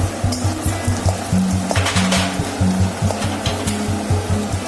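Urad dal and mustard seeds sizzle in hot oil while tempering for Telugu coconut rice, a steady frying hiss with rhythmic scraping and stirring strokes in the pan.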